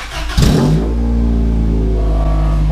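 A Honda car engine with a cut exhaust revs hard once, then settles into a loud, raspy, droning hold close by, with no talking.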